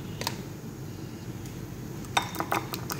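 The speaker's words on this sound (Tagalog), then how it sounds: "Mix na po natin yung ating itlog." Eggs being mixed in a bowl with salt, black pepper and Maggi powder, a few light clinks and taps of utensil against the bowl over a quiet background hum, no speech.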